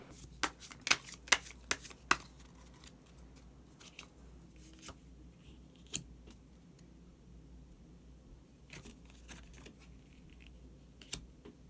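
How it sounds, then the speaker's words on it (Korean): Tarot cards are shuffled and drawn on a table: a quick flurry of crisp close riffles and taps at first, then sparser soft card snaps and slides over a low steady hum, with no talk. "한 장의 카드를 더 뽑고 이야기 계속 나오도록 하겠습니다"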